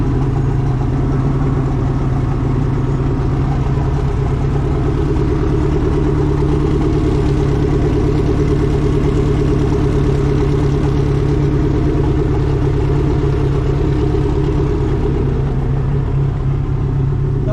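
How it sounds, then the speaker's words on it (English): Two outboard engines on a Glacier Bay 2670 Isle Runner boat idle together, a steady, loud low-pitched drone without a break, with a faint clattering texture throughout; the engines have been sitting unused for a while. "Both engines are running simultaneously."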